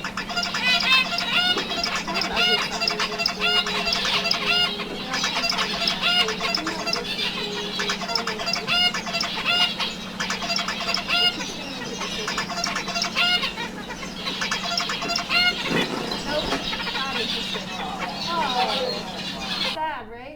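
Dense, busy chirping and twittering from a male zebra finch singing fills the clip continuously, with rapid repeated song phrases and a person's voice speaking underneath.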